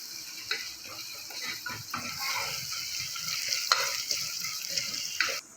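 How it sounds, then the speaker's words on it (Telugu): Chopped tomatoes sizzle and fry in a pan ahead of mutton being added, with a steady crackling hiss broken by occasional stirring scrapes and pops, close and moderately loud. "టమాటా వేసుకుందామండి టమాటా మంచిగా ఫ్రై అయిన తర్వాత మటన్ వేసేసుకుందాం"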